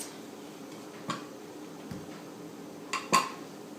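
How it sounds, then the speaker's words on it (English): A knife slicing a piece of vanilla crescent dough, heard as a few faint, sharp clicks and taps against the work surface in a quiet room, with one brighter metallic click near the end. "And now we can slice a little piece here."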